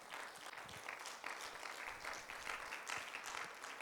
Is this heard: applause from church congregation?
yes